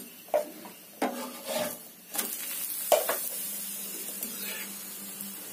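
A thick besan paratha made with chickpea flour fries gently in oil in a pan over low flame, giving a soft sizzle broken by several sharp scraping and spatula clicks, with no voices.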